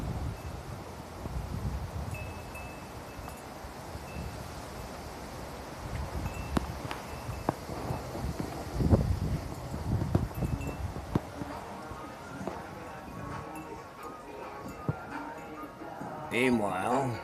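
Strong wind outdoors in Phoenix, Arizona, a rumbling, gusty roar with rustling and rattling that rises and falls throughout, while a voice talks close by and faint music plays.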